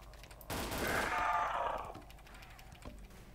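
Submachine gun firing in the Roblox game Project Lazarus during a zombie fight, one sustained rapid burst of about a second and a half, moderately loud, then a quieter stretch with a faint click.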